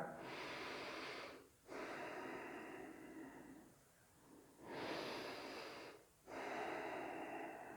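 Deep, slow breaths during a runners' stretch yoga class: two long, airy inhales or exhales, each several seconds and separated by a brief pause, close and fairly soft, with no talking.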